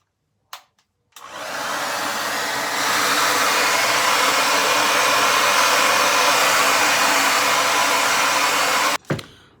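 A Conair hair dryer fitted with a diffuser attachment switches on and blows a loud, steady broadband whoosh for about eight seconds, growing slightly stronger partway through, then cuts off with a brief click; no talking.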